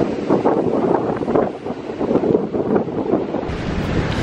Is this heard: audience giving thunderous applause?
no